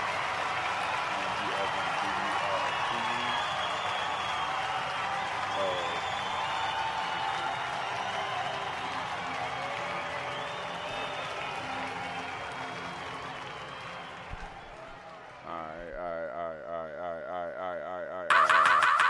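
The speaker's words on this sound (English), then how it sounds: "keep the applause going" Canned applause from a podcast soundboard plays steadily as a dense crowd-like roar, then gives way to a short burst of electronic warbling tones near the end.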